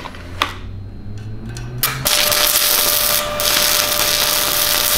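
Stick welding a hot pass with a 1/8 inch 7018 rod, a brief scratch and tap to strike the arc, then a steady loud crackling sizzle that carries on close by.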